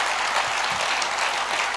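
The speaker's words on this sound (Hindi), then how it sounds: "इतनी तालियां बज गई" Audience applause at a Hindi patriotic poetry recital, a dense steady wash of clapping from a large crowd, continuous and fairly loud throughout with no talking.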